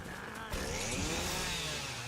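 Chainsaw in a video game, a buzzing motor whine that rises as it revs up halfway through and then holds steady, moderately quiet and alone.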